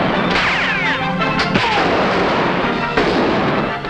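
Gunfire in a 1945 western film, a loud dense burst of shots and cracks running the whole time over a busy soundtrack, close and harsh.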